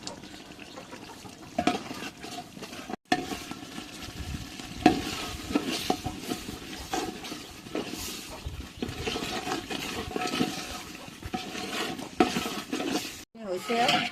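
Food fries in a pan with turmeric powder while someone stirs it steadily, giving continuous sizzling with repeated scraping and clattering of the spoon, plus brief murmurs of voices in the background.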